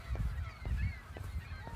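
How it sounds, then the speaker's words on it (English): A flock of geese honks repeatedly at a trail wetland, several overlapping calls at moderate distance, steady and unbroken with no voices over them. "There's a bunch of geese giving their calls."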